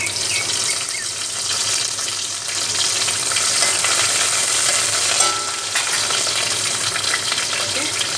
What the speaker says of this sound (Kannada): ಒಂದು ಕಡಾಯಿ ದಿಕ್ಕ ಕೊಂಚ ಎಣ್ಣೆ ಪಾಡ್ದ ಒಗ್ಗರಣೆಗೆ ಕರಿಬೇವು ಪಾಡ್ದ